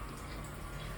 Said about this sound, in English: Shower pressure, not bad.